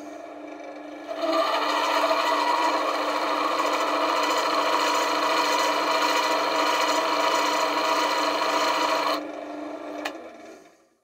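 A texturing tool cuts into spinning wood on a wood lathe, giving a steady, close rasping scrape that holds evenly for about eight seconds and then stops as the lathe winds down. No one speaks.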